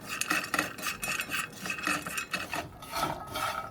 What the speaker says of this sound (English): now we're going to add our corn and just make sure it gets mixed with the spices